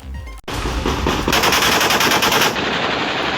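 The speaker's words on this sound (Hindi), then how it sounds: "सड़कों पर सिर्फ गोलियों की गूंज सुनाई दे रही है।" Sustained automatic gunfire rattles in a rapid continuous burst, loud and echoing, after a brief initial thud, on a street during protests in Sindh province, Pakistan.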